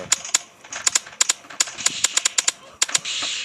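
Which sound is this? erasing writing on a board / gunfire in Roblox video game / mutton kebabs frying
gunfire in Roblox video game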